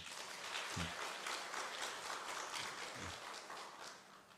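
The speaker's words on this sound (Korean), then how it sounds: "한번 박수로 한번 격려해 주시기 바랍니다" A church congregation at a Korean Sunday worship service claps together to welcome a visiting missionary, producing a dense, steady wash of applause that fills the room for several seconds.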